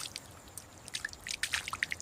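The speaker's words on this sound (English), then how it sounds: "Aggressively and quickly, he shakes off the excess water, just like a dog, in all directions." Water patters and drips in quick, irregular drops from a pangolin's wet body after it shakes itself off on the savanna, growing more frequent toward the end, close and faint.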